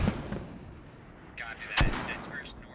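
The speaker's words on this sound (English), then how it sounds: "Those are some great rounds there from Dorf." Artillery rounds landing in the military shooter game Squad: deep booming impacts, one sharp heavy blast near the middle, with rumbling echoes and crackling debris in between.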